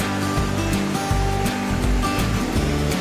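A river rushes and splashes steadily nearby, a dense continuous wash of flowing water with faint low tones and no talk.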